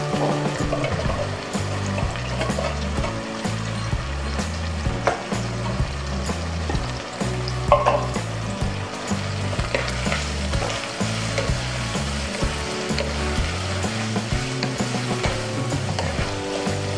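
Bacon, garlic, onion and mushroom fry in a pan for carbonara, a steady close sizzle and crackle with occasional stirring scrapes, continuous throughout with no talk.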